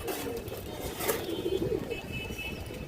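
A female pigeon with a ringed eye, from a market stall selling fancy breeds, coos softly in a low, wavering murmur over a busy background hum.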